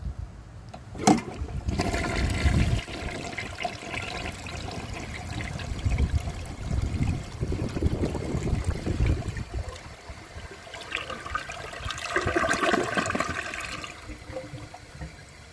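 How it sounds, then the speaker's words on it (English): A 1959 Standard Compact toilet flushes with a grocery bag in the bowl, a loud close rush and swirl of water that drains down and trickles for over ten seconds, with no talk. "it seemed like it completed the flush just as if there was no bag there to begin with"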